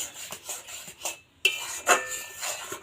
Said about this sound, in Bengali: এটা খুব ভালো করে নাড়িয়ে চাড়িয়ে এটা কিন্তু একটু ডোয়ের মতো তৈরি করা লাগবে